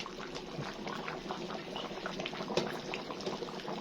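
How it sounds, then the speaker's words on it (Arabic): Soup boiling in a pot, a close, steady bubbling and gurgling with quick popping bursts, fairly quiet and with no talk. "شوفوا بيغلي ازاي"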